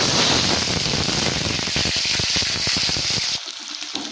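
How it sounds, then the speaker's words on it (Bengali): Loud, dense crackling of cauliflower frying in hot oil, with bursts of spattering, easing slightly near the end. "ফুলকপিটা ধীরে ধীরে পুরোটা ভাজা ভাজা হয়ে যায়"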